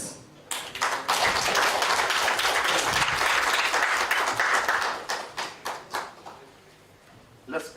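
An audience applauds a poet at a launch event: clapping swells quickly into dense, loud applause, then thins into scattered individual claps before a final clap near the end.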